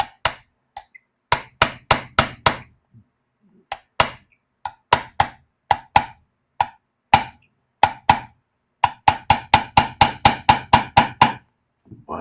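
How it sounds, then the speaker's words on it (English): Small soft hammer tapping a brass punch to drive out a pin during restoration of a Savage 24B rifle, a long series of sharp, close metallic strikes in irregular bursts, some spaced out and others in quick runs of taps. "So we're going to use our brass punch just because it won't make any marks"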